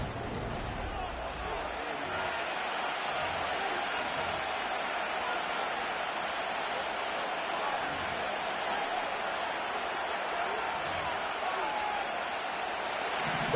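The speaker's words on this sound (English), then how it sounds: "This crowd into it now as we get to 3rd down." A football stadium crowd builds toward a third-down play, giving a dense, steady roar that fills the whole stretch, with announcer talk running over it.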